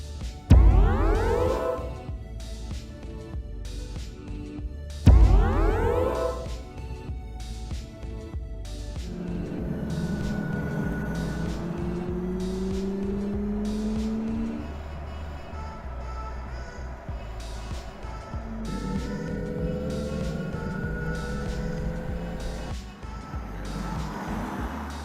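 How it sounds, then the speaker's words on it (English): A BMW iX electric car's interactive driving sound designed by Hans Zimmer plays continuously: swelling synthetic tones and gliding pitches over a low drone, with two sharp whooshing surges early on, loud and without speech. "BMW has collaborated with Hans Zimmer to design the interactive soundscape for their latest iX lineup."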